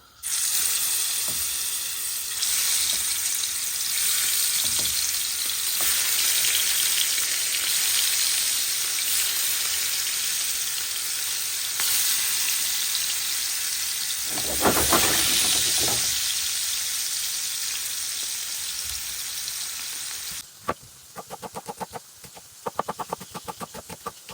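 Mirka fish sizzles loudly in hot oil in a pan. The frying hisses steadily for about twenty seconds, then dies down into scattered crackles and pops.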